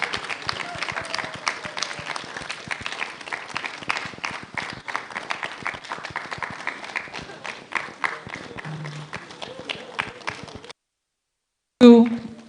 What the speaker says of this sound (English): Please, clap for them again for me.